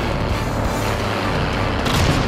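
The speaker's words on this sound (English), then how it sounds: "Explosion." A dense, roaring wall of noise with deep booming rumble throughout, a sustained explosion blast in Call of Duty: Modern Warfare, loud and continuous with no talking.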